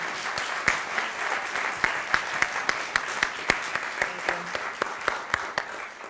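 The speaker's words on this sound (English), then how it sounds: "let's give everyone a round of applause again" Sparse, steady applause from a small audience at a synagogue concert at Beth El Congregation, individual claps distinct and rhythmic, continuing evenly throughout without talk.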